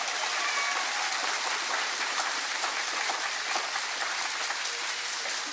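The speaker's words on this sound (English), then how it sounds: "one more round of applause for all of our excellent educators" A large crowd applauding at a teacher of the year celebration, dense continuous clapping at full strength from start to finish.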